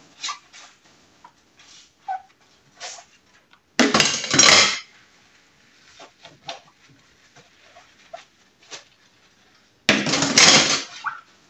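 Cutlery clattering as it is put away during kitchen cleanup: two loud bursts of metallic jangling, dense and close, with lighter clinks and taps of dishes and pots scattered between them.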